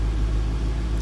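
A 1989 C4 Corvette engine, left sitting for three years, idles with a steady low rumble that is close and fairly loud and runs slightly rough, with no voices over it.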